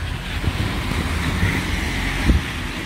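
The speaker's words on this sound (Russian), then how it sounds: "Небольшой ветерочек дует, он прям в лицо мне дует." Light wind buffets the microphone outdoors on a snowy day in Yeysk, a steady low rumble with a few stronger gusts, no talking.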